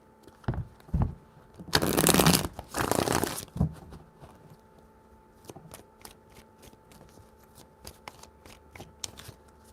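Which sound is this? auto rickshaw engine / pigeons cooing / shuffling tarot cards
shuffling tarot cards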